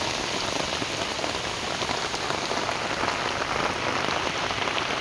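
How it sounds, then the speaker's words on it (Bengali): Heavy rain pouring without a break for hours, flooding the ground and leaving standing water: a dense, steady, loud hiss of drops hitting surfaces, unbroken throughout and with no voices. "কয়েক ঘন্টা ধরে অনবরত বৃষ্টি হচ্ছে"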